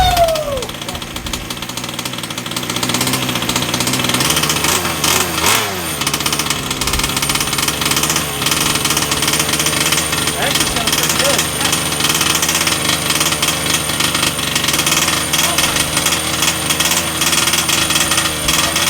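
A Redcat Rampage XT RC monster truck's small nitro engine fires and runs, a loud, close, rattling buzz that revs and settles into a rough, knocking idle throughout, with people talking over it.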